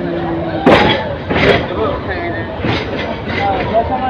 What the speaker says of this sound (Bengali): শ্রীপুর থেকে ছেড়ে যাচ্ছে বলাকা কমিউটার ট্রেনটি।